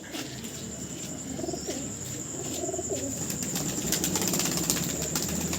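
Soft, low cooing from a female Kaldum tumbler pigeon repeats a few times at close range after dark, over a steady hum and background chatter.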